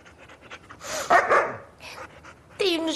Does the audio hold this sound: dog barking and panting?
yes